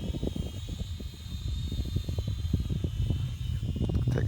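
Eachine E32HW toy drone flying forward into the wind, a thin whining motor tone over gusty, rumbling wind noise that buffets the microphone, steady and fairly loud throughout.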